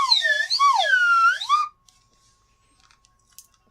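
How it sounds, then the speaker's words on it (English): A small slide whistle blown in a quick flourish, sweeping up and down in pitch for about a second and a half, close and fairly loud, then silence. "That's little slide whistle flourish."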